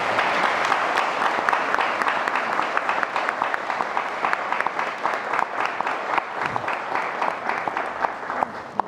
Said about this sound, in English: And I think all the parents deserve a round of applause.